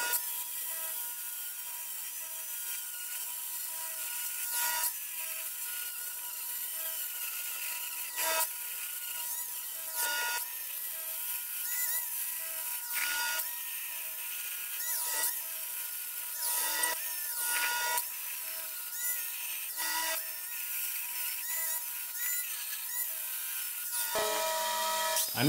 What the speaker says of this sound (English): It's only welded on the bottom, so I use the grinder to remove most of the bead.